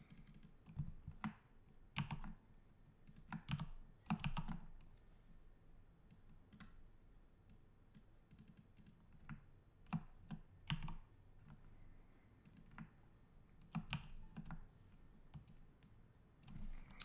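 Typing on a computer keyboard, faint irregular clusters of clicky keystrokes with short pauses between bursts, heard alone.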